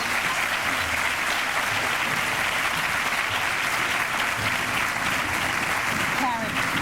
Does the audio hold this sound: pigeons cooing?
no